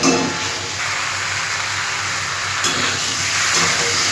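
Potatoes and taro frying in spiced oil in a pan, a continuous loud sizzle and hiss with a steady crackle throughout, close up and uninterrupted, with no voices.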